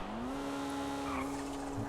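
Asbo car in a GTA FiveM online video game race, a sustained tire squeal from a skid, a steady rising tone over a continuous engine drone, loud and close, with no talking.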